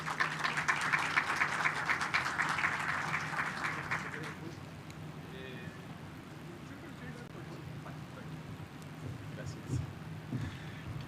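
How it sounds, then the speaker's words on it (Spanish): Audience applause at a talk on metropolitan governance and sustainable housing, a dense burst of clapping for about four seconds that then fades into room noise and faint murmuring. "lo recibimos con un aplauso."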